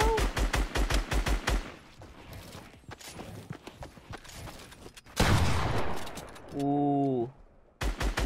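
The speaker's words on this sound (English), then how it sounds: "He's got a freaking heavy sniper." Fortnite gunfire, including a heavy sniper, with rapid loud shot bursts at the start and end, a sharp blast in the middle, and a player briefly exclaiming.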